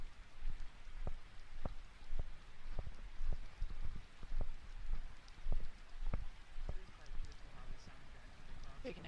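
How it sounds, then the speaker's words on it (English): Rain patters steadily on a farm track on Mt Vernon, New Zealand, with scattered sharper drops tapping in an irregular rhythm over a soft hiss. "Too bad the rain's chasing us."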